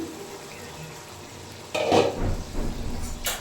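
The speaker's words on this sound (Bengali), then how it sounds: "মাংসটা ভালোভাবে নেড়ে দিচ্ছি" Goat mutton frying in a pan with potatoes to come, a soft steady sizzle that turns into louder scraping and stirring clatter partway through, close up.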